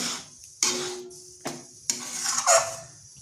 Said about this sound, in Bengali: এইভাবে নেড়ে নেড়ে এটা একটা ডো তৈরি করব